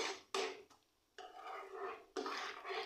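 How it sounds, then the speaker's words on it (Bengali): Caramel being stirred in a pan, a utensil scraping and scuffing against the metal in three bursts broken by short pauses, close and fairly quiet. "আমি চারপাশটা নাড়াচাড়া করে দিচ্ছি যাতে করে চারদিকেই খুব ভালো করে কালার আসে"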